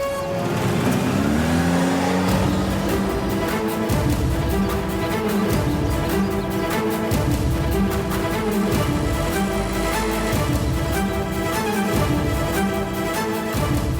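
A car pulls away in a roadside scene, its engine revving and accelerating steadily and loudly, with a continuous rising engine note and road noise that stays close and fairly constant throughout, no voices.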